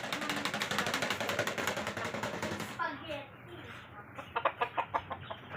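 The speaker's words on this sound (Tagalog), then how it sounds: "Ang dami pong manok." Chickens and fighting roosters cluck and call at a gathering in Philcoa, Quezon City. A dense, rhythmic clucking fills the first half, then fainter clucks follow under someone talking.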